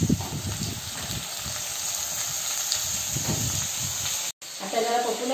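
Onion fries in a pan with a steady hiss and sizzle, broken by soft stirring noises, close and fairly loud throughout.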